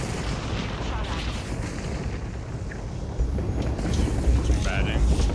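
Gunfire and explosive booms from the battle royale shooter Apex Legends fill the clip as a dense, continuous rumble of shots that grows louder in the last two seconds.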